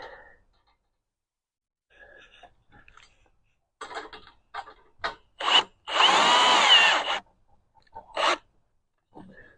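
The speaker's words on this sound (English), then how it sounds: "this little Milwaukee, has multiple heads there for the screwdriver for the power set" A compact Milwaukee power driver fitted with a wrench head drives fasteners into a wooden base for a polytunnel greenhouse. Short bursts and a sustained whir of about a second stand out against quiet handling noise and pauses.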